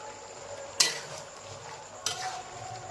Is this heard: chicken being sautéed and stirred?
yes